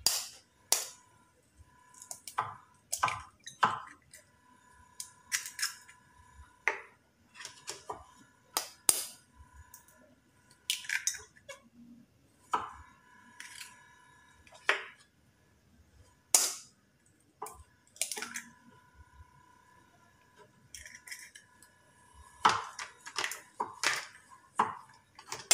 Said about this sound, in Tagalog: babatilin ko na yung egg.